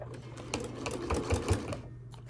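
A domestic sewing machine stitches an oven dress towel, its needle running in a steady rapid mechanical chatter close by, with a short back-stitch at the end.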